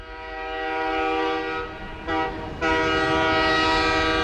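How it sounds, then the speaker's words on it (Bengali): A train pulls into Hijalpur railway station in the morning with a loud, sustained horn blast that briefly dips twice before swelling back, steady and close for the whole stretch. "সকাল 9:40 ট্রেন ট্রেন এসে থামলো হিজলপুর রেল স্টেশনে।"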